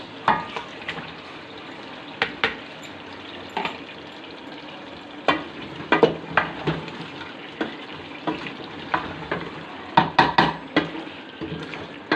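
Fried chicken pieces sizzle and fry in a pan with a thick base, probably gravy, while a spoon stirs and scrapes. Sharp clatters repeat irregularly over a constant close hiss, and no one speaks.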